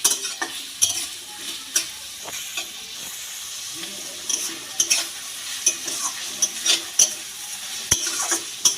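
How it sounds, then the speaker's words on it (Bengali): Chopped onion and green chili frying together in a pan for Dhaba-style egg tadka, a steady close sizzle broken by repeated stirring scrapes and clatters, with no voices. "এবারে পেঁয়াজ আর লঙ্কা একসঙ্গে ভেজে নেব"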